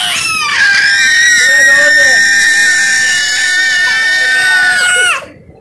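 A girl screams on request at home with her family, one long sustained high-pitched shriek lasting about five seconds, loud and close, then cutting off abruptly.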